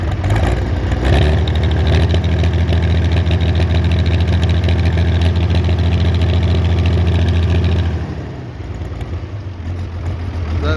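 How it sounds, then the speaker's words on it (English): An old Allis-Chalmers D17 diesel tractor engine idles with its exhaust removed, a loud, steady, close chugging that runs evenly for about eight seconds before dropping off and settling lower. "I don't know, it sounds like it's missing a little bit to me, but good old Alice D17 diesel."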